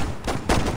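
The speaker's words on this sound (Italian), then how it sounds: "Aspetta che ti sparo alle gambine." Gunfire in the Saints Row video game: two sharp, loud bursts of shots in quick succession, close and punchy, with no voices over them.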